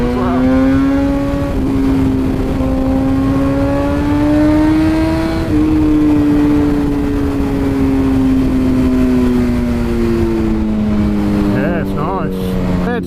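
BMW S1000RR superbike ridden on a damp track, its engine revving high and close with a smooth, climbing pitch that dips and rises again over several seconds, mixed with wind rush.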